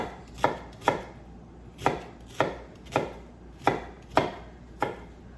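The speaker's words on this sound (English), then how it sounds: "Makes cutting up a lot of onions very easy, and you can do so very quickly." A kitchen knife chops through onion on a cutting board in steady, crisp strokes, about eight distinct close chops at an even pace, with no talking.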